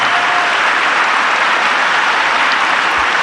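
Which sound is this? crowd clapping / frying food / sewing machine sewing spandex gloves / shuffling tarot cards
crowd clapping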